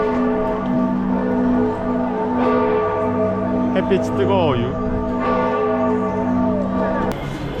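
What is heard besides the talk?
church bells ringing in Italy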